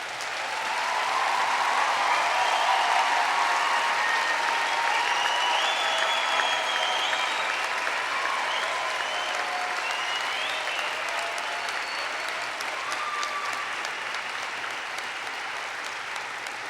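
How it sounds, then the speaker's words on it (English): A large audience at a university convocation claps in sustained, even applause that swells quickly and holds steady for over fifteen seconds, filling a big hall. "Give yourselves a hand of applause."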